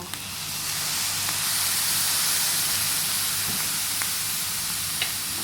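Okra and egg stir-fry in a pan, seasoned with sugar, pepper and fish sauce, sizzling with a loud continuous hiss, with a few light scrapes and clicks of the stirring utensil.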